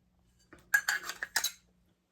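Small patinaed metal scoops clink and rattle against each other in several quick bright taps over about a second, close and clear in a quiet room.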